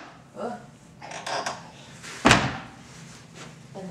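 A small drawer in a hotel room at the Wynn is pushed shut, giving one sharp, close thud with a brief rattle, set among quieter handling noises and a little background chatter.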